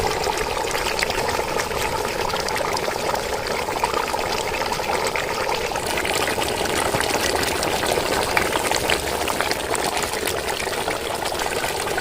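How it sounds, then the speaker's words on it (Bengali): Hot water pours steadily into a pot of chicken curry with fried meat and potatoes, a continuous splashing, gurgling stream that stays close and even throughout with no pauses. "মাংসে পর্যাপ্ত ঝোলের জন্য আমরা গরম পানি দিয়ে দিলাম।"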